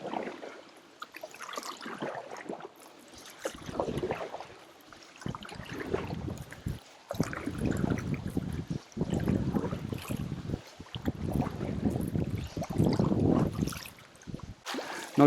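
A Fit Ocean Force stand-up paddleboard is paddled across Lake Lucerne, Switzerland, with repeated soft splashes and strokes through the water under steady wind noise on the microphone.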